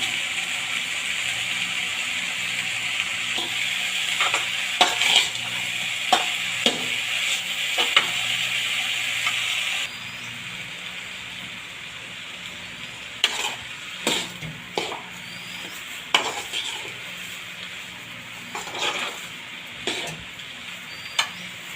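Adamant creeper (pirandai) sautéing with salt in a pan for pickle: a continuous close sizzle that drops in level partway, with frequent scraping stirs and utensil knocks, no voices.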